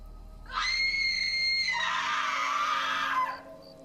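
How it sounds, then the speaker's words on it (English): A woman screams in panic, one long, loud, raw cry of about three seconds that rises sharply and shifts into a harsher, rougher tone before cutting off, heard alone without talking. "She screamed."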